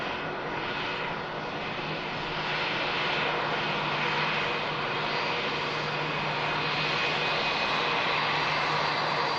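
A New York JFK-bound airliner being pushed back at Manchester Airport: its engines give a continuous, even whine and roar at moderate level, unbroken throughout, with no voices.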